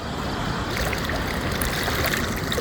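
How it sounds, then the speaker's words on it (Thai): River water rushes steadily past during net fishing, a loud, close, continuous broadband wash with no talk. "น้ำไหลๆ"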